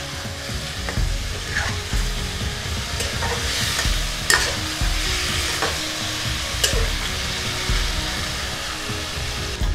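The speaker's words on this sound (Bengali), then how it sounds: "এখন খুব ভালো করে টমেটো এবং পেঁয়াজের সঙ্গে কষিয়ে নেব।" Marinated chicken stir-frying with tomato and onion for a Bengali mess-style chicken curry, a steady close sizzle broken by scraping spatula strokes and a few sharp clicks against the pan, with no talking.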